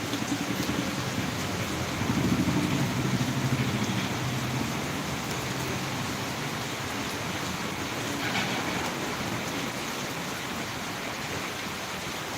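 Steady rain falls in Tirunelveli, a continuous broadband hiss of drops on surfaces lasting throughout, fairly close and even, with a slightly heavier, rumbling stretch early on and no talking.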